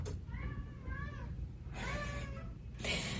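A pet cat meows twice indoors, close and fairly clear, each call rising and falling, over a low steady room hum.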